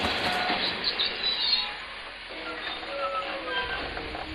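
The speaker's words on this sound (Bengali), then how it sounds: "কুয়াশা চিরে একটা ট্রেনের হুইসেল শোনা গেল" Train sound effect: a passing train rumbles and clatters along the rails at a fairly steady volume, with thin whistle-like tones drifting faintly through the noise.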